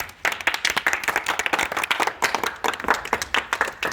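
A small group of people clap during a Gujarati colour-matching challenge, with quick, uneven hand claps close by that keep going for several seconds.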